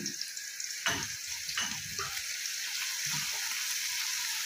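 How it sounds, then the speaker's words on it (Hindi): Garlic, about a tablespoon, frying in hot oil for a karhi pakora dish: a steady broadband sizzle fills the clip, broken by a few soft stirring scrapes and knocks, close and moderately loud, with no talking. "अब इसमें मैं ऐड कर देती हूँ लहसुन, 1 टेबल स्पून लहसुन था"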